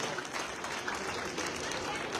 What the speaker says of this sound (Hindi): मैं आप सबसे आग्रह करूंगा कि जोरदार तालियों के साथ में भाई साहब का स्वागत और सम्मान करना चाहिए।